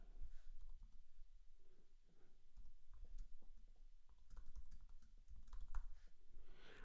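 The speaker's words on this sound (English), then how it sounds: "I'm just kind of typing stuff in." Quiet typing on a computer keyboard, a steady run of soft key clicks and taps heard close up and on its own.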